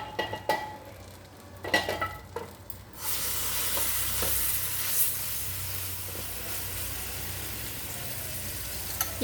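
Palm fruit roti batter fries in a pan. A steady, close sizzle takes over after a few seconds of clinks and stirring scrapes, then holds evenly to the end.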